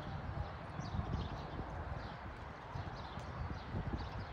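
Irregular hoof clip-clops of a horse walking on soft ground, moderately close and faint over a low outdoor hum, no speech.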